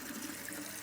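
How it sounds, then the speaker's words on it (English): Cold tap water runs steadily into a kitchen sink over freshly drained cooked pasta, a continuous broadband splash at moderate level with no talk, ending in a brief louder spike. "Rinse them in cold water until all the heat is out."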